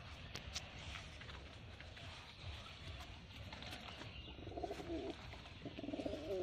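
Pigeons coo softly in a loft, low throaty calls rising near the end over a constant noisy background with scattered faint chirps.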